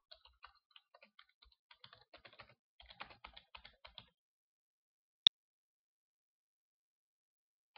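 Someone types a password on a computer keyboard while generating PGP keys: quiet, quick, irregular key taps for about four seconds, then silence broken by one sharper click.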